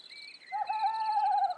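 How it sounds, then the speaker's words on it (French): Owls hoot in a forest at night, one drawn-out, wavering call rising over fainter high tonal calls, clear and fairly close with no voices. "Elle se remplit de bruits étranges, de couassements de grenouilles, de ululements de chouettes et de battements d'ailes de chauves-souris."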